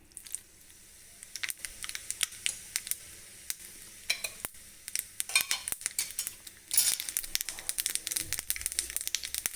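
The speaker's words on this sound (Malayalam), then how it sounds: "കടുക് പൊട്ടി വരുന്നുണ്ട്." Half a spoon of mustard seeds crackles in a spoonful of hot oil for a dry prawn curry, a thin patter of tiny pops that thickens and grows louder partway through, with no talking.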